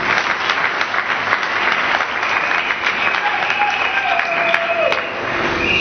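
A crowd applauds the king of kings with dense, sustained clapping and some faint cheering voices, steady and loud throughout.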